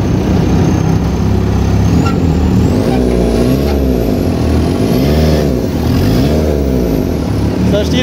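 A small homemade buggy's engine runs loud and close, revving up and down in repeated swells with a steady throbbing drone.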